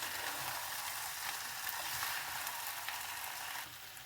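Bolognese meat and tomato browning in a hot pan, a steady close sizzle and crackle of frying with faint stirring scrapes, no talk.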